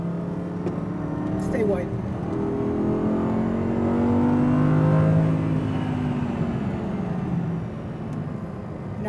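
Audi R8 V10 RWD engine on a track accelerates with a rising, droning revving note that swells to a peak midway and then eases, heard from inside the car under a driving instructor's spoken coaching.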